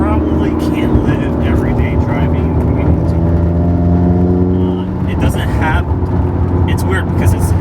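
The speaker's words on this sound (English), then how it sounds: "Oh, lots of pops and burbles." A Stage 2 modified Subaru WRX drives with a loud, droning exhaust note that shifts pitch, followed by crackling pops and burbles on deceleration, heard from inside the car with speech underneath.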